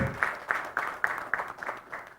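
An audience at a solemn anniversary ceremony for the IFRN institute applauds a teacher receiving a plaque, a fairly faint, loose patter of claps at an uneven rhythm, with no voices over it.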